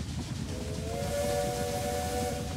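Steam train whistle from the Railway Empire strategy game, a sustained multi-tone blast held steadily for several seconds over a low rumbling rail background, fairly loud with no talking.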